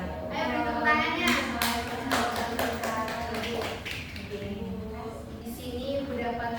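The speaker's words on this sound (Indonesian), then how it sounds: "Ayo beri tepuk tangannya." Classmates in a school classroom clap together after a group presentation, a dense run of sharp hand claps that stays steady and close throughout, with voices murmuring underneath.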